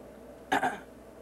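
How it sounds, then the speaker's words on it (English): A single short cough, close and fairly loud in a quiet room, during a vocal fold examination of a singer. "Cough for me."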